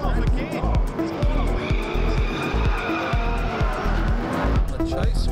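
A V8 drift car screams at high revs and squeals its tyres at Hampton Downs Motorsport Park, the engine bouncing off the limiter in rapid pulses as it slides off the track, with a commentator talking over the din.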